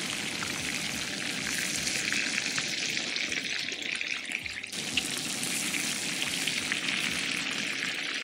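Marinated chicken leg pieces fry in a pan with a continuous crackling sizzle, close and even, with a brief dip partway through before the hiss resumes.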